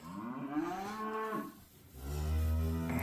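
Cattle on a farm low loudly and close by, with one drawn-out moo followed by a deeper, heavier call, and no talk over them.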